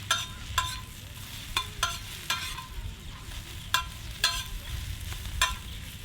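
Onions frying to golden brown with salt and turmeric are stirred in a pan, giving a steady soft sizzle broken by sharp, regular scrapes and clacks of the spoon, close and alone.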